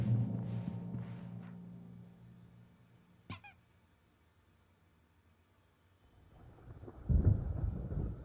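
Thunder rolls in Alan Wake, a soft low rumble fading at first, then a sharp crack, a quiet pause, and a louder deep rumble building near the end as the storm approaches.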